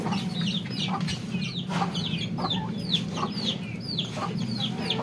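Pet backyard chickens cluck and chirp in short repeated calls over a steady low farmyard hum, several hens sounding close together while eggs are gathered.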